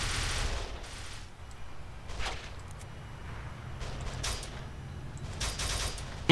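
Gunfire in the video game Kane & Lynch 2, scattered bursts of shots and sharp bangs over a low rumbling background, moderately loud, no talk.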